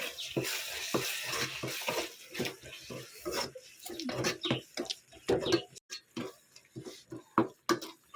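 Beef curry being stirred in a pot, with repeated scraping and clattering strokes against the metal alongside a wet, slushy churning, close and fairly loud, with no talking.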